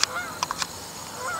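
Short nasal honks of a snow goose on a hunting marsh, a few calls spaced through the first half, moderately close, with quiet background after.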